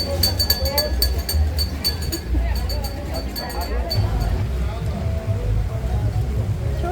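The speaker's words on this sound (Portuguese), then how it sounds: "Chovendo, né?" Rain patters steadily over an outdoor market in Mexico, mixed with nearby crowd chatter, voices and the occasional clink of stalls.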